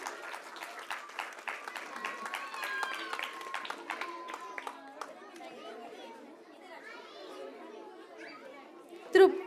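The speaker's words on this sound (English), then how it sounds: "Please, a big round of applause for them." Audience clapping for a senior kindergarten class at a preschool annual day, scattered applause mixed with children's chatter and crowd voices, fading to murmuring with a loud bump near the end.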